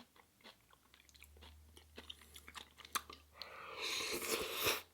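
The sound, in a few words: someone taking a bite of home-cooked food and chewing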